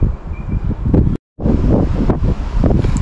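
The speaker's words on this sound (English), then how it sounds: "The wind has really picked up now" Strong wind gusting outdoors and buffeting the microphone during a Ford Fiesta Mk6 repair, a loud, continuous rumbling roar with one brief dropout.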